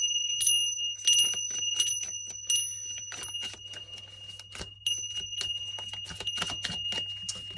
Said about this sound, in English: There's going to be a bell dong here.